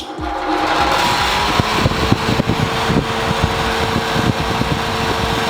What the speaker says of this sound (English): And for that we have this beast of a fan.